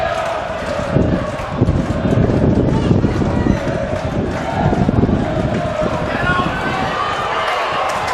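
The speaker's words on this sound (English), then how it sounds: "Again, you can hear the strength of this wind." Strong wind buffets a Batley Bulldogs rugby league ground, a loud continuous low roar and rumble, with crowd noise and footsteps from play underneath.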